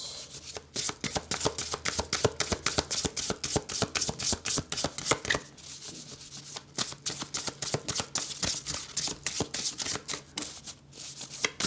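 A deck of tarot cards is shuffled by hand, a close, dense riffling patter in repeated bursts with brief pauses between them.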